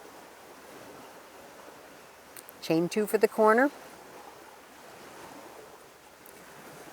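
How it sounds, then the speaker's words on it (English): Water laps outdoors in a soft, steady wash that continues throughout, with a voice speaking briefly partway through. "I just love to sit out here and listen to the water."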